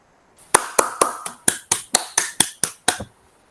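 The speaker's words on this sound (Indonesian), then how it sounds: "Tepuk tangan untuk kelompok 1." A small class group claps after a score is announced during a peer-teaching sociology lesson: about ten sharp, evenly spaced claps, close and fairly loud, with no talk.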